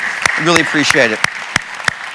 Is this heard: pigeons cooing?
no